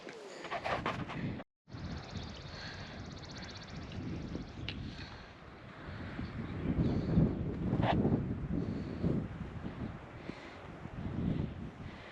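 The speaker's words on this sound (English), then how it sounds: "Starting to get windy and cloudy." Gusty wind buffeting the microphone on a New Mexico mountain trail near Indian Lake, a low rumbling roar that swells and fades, with birds cooing faintly in the background.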